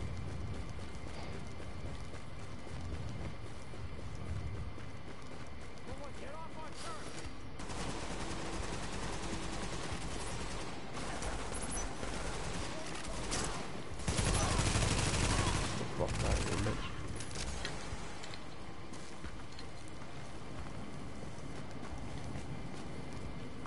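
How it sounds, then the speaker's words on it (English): Gunfire in the video game Survival 2, scattered bursts and shots mixed with galloping hoofbeats and movement noise, loudest in a dense stretch midway, with voices talking at points. "Bullets."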